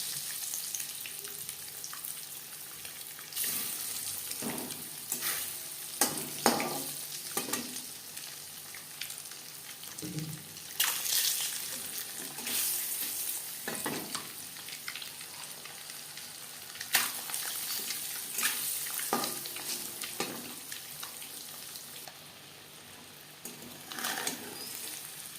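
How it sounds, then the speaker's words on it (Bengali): An egg fries yolk-side down in a pan for Bengali egg curry, giving a steady, close sizzling hiss with brief crackling bursts throughout, with no talk. "একটা সাইড ভাজা হয়ে গেলে অপর সাইডটা উল্টে দেবো।"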